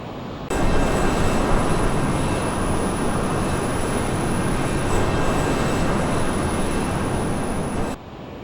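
Steady loud roar of a Learjet heard from inside the cabin as it climbs to cruise altitude, a constant broadband whoosh with a faint high whine that cuts off near the end.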